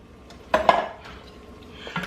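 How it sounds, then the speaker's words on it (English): Tomato sauce from a can is dumped into a soup pot of taco soup, giving a couple of close clanks and a wet plop in a quiet kitchen. "I'm going to open the tomato sauce"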